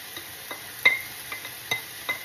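Pancit noodles with carrots being stirred in a pan, giving soft scraping and tapping strokes at a steady slow rhythm, about one every half second, quiet and close with no talking.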